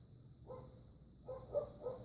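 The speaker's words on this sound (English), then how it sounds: "there's a dog barking" A dog barks a few times in the distance, faint and brief, over a quiet steady hum.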